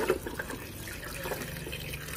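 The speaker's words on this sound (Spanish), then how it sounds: "Ahorita voy a vertir el agua" Water poured into a Cooper Cooler drink chiller, a steady close trickling and splashing that runs unbroken for about two seconds with no talk.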